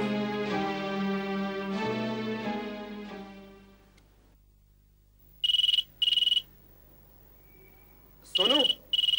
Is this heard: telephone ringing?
yes